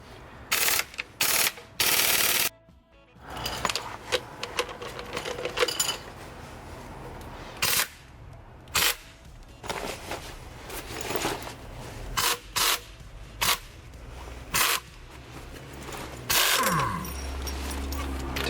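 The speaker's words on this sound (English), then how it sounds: "So I'm gonna use a 17 millimeter, and we're gonna use an impact, and it's gonna shoot off." An impact wrench with a 17 mm socket loosens the strut nut on a 2000–2005 Toyota Celica GT/GT-S, heard as several loud, close, short hammering bursts separated by quieter handling noises and pauses.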